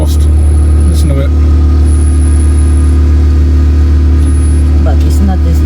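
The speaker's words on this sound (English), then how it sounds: "I forgot to get rid of that vibration on the exhaust." A Ford Ranger Wildtrak engine idles loudly with a steady low rumble and a faint metallic buzzing rattle from a vibrating exhaust heat shield, with a brief voice and a couple of rev blips.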